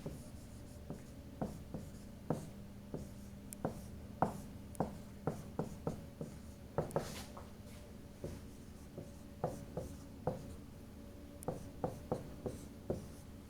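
Chalk or marker strokes on a board during a physics lecture: a quiet series of irregular taps and short scratches, spaced about a second apart, in a room with no talking.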